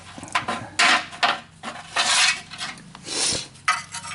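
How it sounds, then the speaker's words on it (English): Rust is scraped and rasped off a metal wheel spacer from a Chevy Trailblazer in short, irregular bursts of gritty scratching, close up, with brief pauses between strokes. "And now we're going to strip this rust off."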